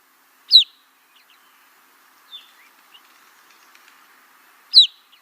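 Two clear, loud type 1 crossbill calls, each a pure-tone whistle that sweeps up and then down, about four seconds apart, with a fainter, softer call between them against a quiet background.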